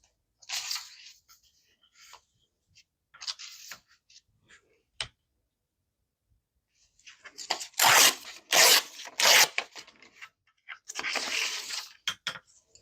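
Printed paper torn off by hand for a junk journal, heard as a few short rips early, then louder, longer bursts of close tearing and crinkling separated by quiet pauses.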